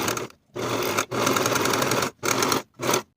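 A sewing machine stitches the side edges of a bodice for a bow tie top, running in four close, steady bursts separated by short pauses.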